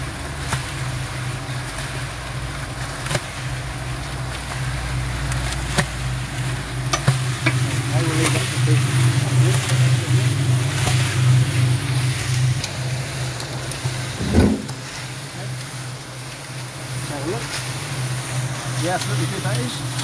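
A concrete mixer churns a 5:1 concrete mix, its drum producing a continuous rumbling, scraping drone with a steady motor hum and occasional knocks, while someone talks over it.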